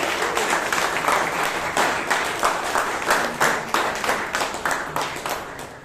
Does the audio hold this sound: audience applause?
yes